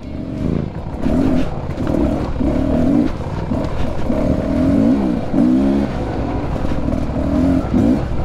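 A Beta 300RR dirt bike labors along a rough off-road trail, its two-stroke engine droning close and loud with repeated throttle surges and revs rising and falling throughout.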